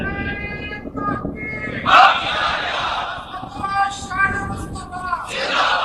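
At a religious gathering commemorating the Battle of Badr, a leader's shouted call draws loud, rousing bursts of slogans from a crowd, rising and falling in waves.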